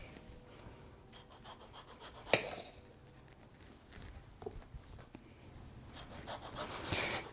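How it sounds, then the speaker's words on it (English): A knife slices a tomato on a cutting board while Mexican zucchini tortitas are made in a home kitchen, giving soft repeated rubbing strokes with one sharper tap partway through, close and fairly quiet. "we want to slice our tomato"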